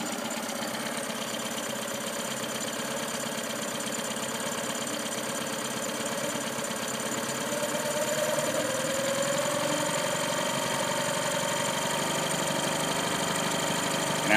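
A running engine held at raised throttle while troubleshooting engine trouble, giving a steady, moderately loud drone that holds its pitch and swells slightly toward the end, with no speech.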